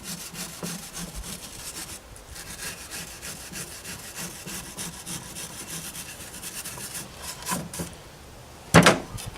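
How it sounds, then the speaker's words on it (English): Steady scraping of a wire brush working old finish out of the grooves of a wooden dresser, a continuous close rasping with one louder scrape near the end. "Scrape it all through. The grooves. Finish that. Use my wire brush."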